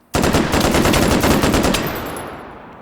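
A sustained burst of rapid automatic gunfire in a Battlefield I video game, loud and close, firing steadily for under two seconds before trailing off into echo.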